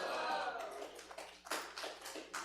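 A congregation applauds at a Shabbat morning service at Temple Adas Israel, with scattered claps building and thinning over a few seconds, fairly faint and close, with a little voice mixed in.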